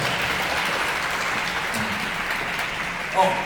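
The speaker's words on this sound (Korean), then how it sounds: "둘이 박수 한번 주세요." Applause from a church retreat audience, a fairly faint, even wash of clapping throughout, with a brief voice near the end.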